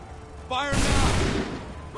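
A musket volley in Assassin's Creed 3 erupts as one loud, broad blast that rolls and rumbles for about a second before tailing off. Shouted voices come just before it.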